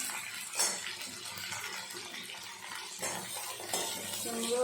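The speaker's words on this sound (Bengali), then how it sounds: "কুমড়ো, আলু, পটল দিয়ে একটু ভাজা ভাজা করে নিয়ে বেগুনটা দিয়ে দেবো।" Pumpkin, potato and pointed gourd frying in a pan, stirred with a metal spatula: a steady close sizzle with intermittent scraping and clinking strokes against the pan.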